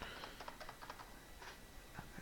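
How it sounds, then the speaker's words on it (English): Quiet, steady typing on a computer keyboard during a coding demo, with irregular light key clicks in bursts and small pauses, close by and alone. "as I'm typing something"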